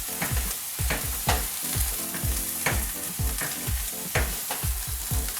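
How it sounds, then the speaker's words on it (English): Pav bhaji ingredients stirred in a hot pan: rhythmic, loud spatula strokes and knocks against the metal repeat every half second or so over a constant frying hiss, close up. "let's mix these ingredients here"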